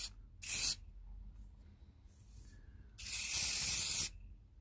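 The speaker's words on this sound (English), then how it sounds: "Just spray it on." Aerosol spray can used over a large surface while testing a cheap masking-putty alternative: two close, loud hissing bursts, a short one and then a longer one of about a second, with quiet between them.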